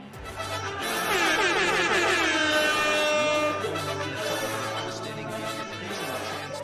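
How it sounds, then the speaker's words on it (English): An air horn is blasted in celebration of a home run during an MLB The Show video game session. The loud, blaring, wavering horn tones sound for several seconds. "blasting the air horn in celebration"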